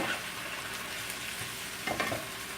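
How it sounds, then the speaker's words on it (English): Chopped cabbage being stirred into diced ingredients in a hot pan, a steady sizzle with soft scraping strokes and a couple of louder clunks near the end. "Put my cabbage in, mix it. After I mix it with all these"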